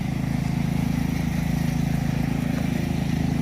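A riding lawn mower cutting grass on a farm runs with a steady, continuous engine drone at moderate distance, with no voices.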